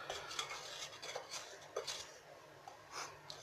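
A spoon scrapes flour from the sides of a bowl into cookie dough for white and dark chocolate chip oat and raisin cookies, giving a series of close, light scraping and clinking strokes with no talk.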